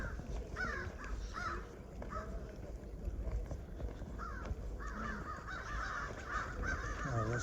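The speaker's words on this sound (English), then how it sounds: "Oh, there's crows up there." Several crows caw overhead in a wooded cemetery, repeated harsh calls in bursts, some overlapping, moderately distant over a quiet outdoor background.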